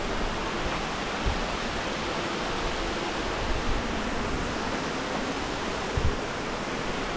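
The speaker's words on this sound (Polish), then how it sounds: "Sam wodospad ma 65 metrów wysokości od najniższego punktu." A 65-metre waterfall on a Bulgarian mountain trail, the Vratsa–Zgorigrad eco path, roars as a steady, dense rush of falling water, close and loud, with no voices over it.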